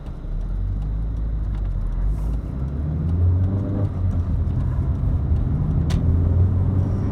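A 1986 mk2 Vauxhall Cavalier cruising steadily, with a constant low engine drone and road rumble heard from inside the cabin, loud and even throughout with no talking.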